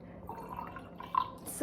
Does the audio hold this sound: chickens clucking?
no